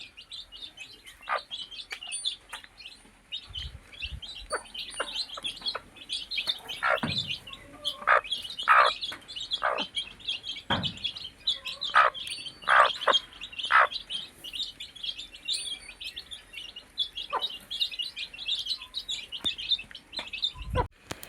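Many high, sharp peeping chirps of chicks repeating throughout, close and fairly lively, with a few lower clucks from a hen mixed in, inside a poultry shed.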